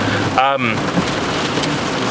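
Heavy rain drums steadily on a car while driving, a dense, constant wash of noise with a brief voice cutting through near the start.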